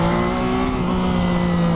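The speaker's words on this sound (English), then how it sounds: "I zoomed in, that was 40 something miles an hour in first gear" A 2015 Yamaha FZ-09 motorcycle pulls hard in first gear, a loud, steady engine drone close by whose pitch sags slightly over a couple of seconds.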